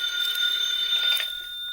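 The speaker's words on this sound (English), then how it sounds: "A short time later, Britt received a phone call in his office." In an old-time radio crime drama, a telephone rings with a steady metallic trill that holds for over a second and then cuts off, with no talk over it.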